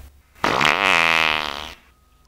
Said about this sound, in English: First record your fart or farts.